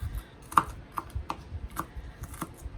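A knife chops a jalapeño on a cutting board in a handful of crisp, separate, unhurried knocks, close and clear.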